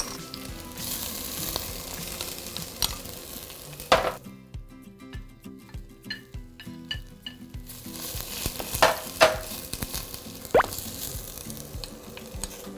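Vegetables for a Chinese-style mushroom japchae are stir-fried in hot oil, sizzling steadily with utensils scraping and clinking against the pan, briefly quieting midway before the frying sizzle and stirring clatter resume.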